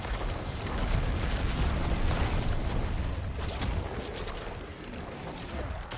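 Blight Corpse Explosion in Diablo 4 sounds as a dense, continuous rumbling blast with crackling bursts, loud and sustained throughout with no voices.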